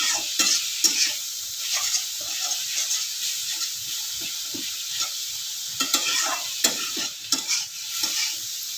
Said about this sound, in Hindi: रसुण पियाज देकी पालंग शाग भजा